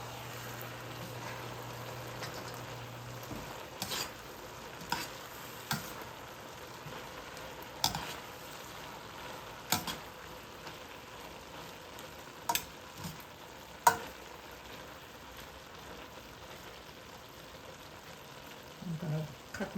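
Cabbage with butter and plenty of water steams and softly sizzles in a pan on a home stove, a steady low bubbling hiss with scattered clicks and utensil knocks throughout.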